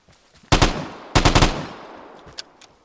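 Two sharp bursts of automatic gunfire from the video game Vigor, each a rapid cluster of loud cracks about half a second apart, followed by a fading tail and a couple of faint distant pops.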